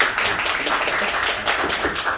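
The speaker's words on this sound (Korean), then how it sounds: "박수 한번 쳐주십시오." An audience at a neighbourhood concert claps at the host's request, a steady burst of many hands clapping together at moderate loudness with no break.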